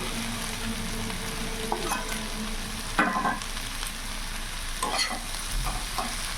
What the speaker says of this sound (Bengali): ভালো করে নাড়াচাড়া করে নেবো একসাথে মিশিয়ে নেবো এবার ভেজে রাখা আলুগুলো দিয়ে দেবো